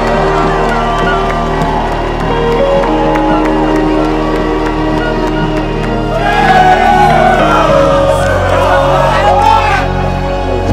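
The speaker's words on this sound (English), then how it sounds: "Let's clap our fans." Soccer fans in a Canadian Premier League stadium cheer and shout as players applaud them, a sustained crowd roar under nearby talk that swells with louder whoops toward the end.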